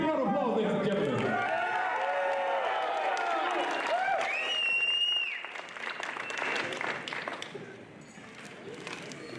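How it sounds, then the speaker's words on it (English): A crowd at a college football signing celebration applauds and cheers loudly, with shouting voices and a sharp whistle rising over the clapping before the noise gradually thins out. "Big round of applause, ladies and gentlemen"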